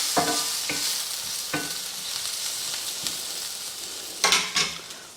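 Onions frying in a pan for a high-protein burger bowl, with a steady sizzle underneath and several sharp scraping stirs of a utensil, close and moderately loud.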